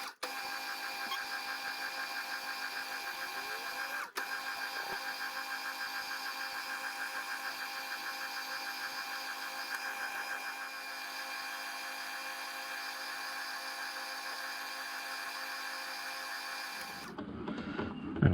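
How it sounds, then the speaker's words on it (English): A steady mechanical whine and hum of a lathe running through a knurling pass, with a worn knurling tool pressing a knurl into the workpiece, continuous and even before cutting off near the end. "Don't know how this knurling tool holds up to what it's been through."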